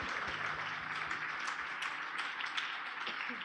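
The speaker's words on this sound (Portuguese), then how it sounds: "Pode aplaudir o Senhor" A church congregation applauds during a Sunday service, a steady wash of many hands clapping together at moderate level, with a few faint voices mixed in.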